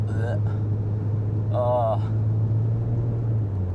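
A Nissan 350Z drones steadily from inside the cabin at about 50 around a track corner, a constant low engine hum under brief bursts of talking.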